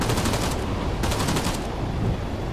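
Helicopter-mounted machine gun fires in Arma 3: a loud, sustained stream of rapid shots, steady and dense for the whole stretch.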